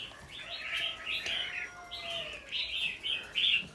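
A caged red-whiskered bulbul sings a run of bright, warbling chirped phrases, close and fairly loud, with short gaps between bursts.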